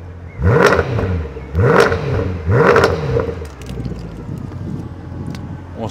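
A Lexus RC F with a Catasport fitted and exhaust valves open blips its engine three times in quick succession, loud rising snarls with crackle, then idles down with wind noise behind.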